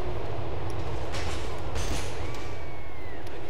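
A subway train rumbles through an underground tunnel in the game GTA IV, a steady loud roar with a brief high metallic squeal partway through.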